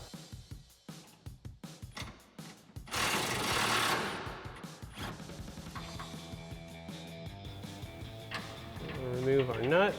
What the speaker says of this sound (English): we're going to switch out to an impact so we can run this out.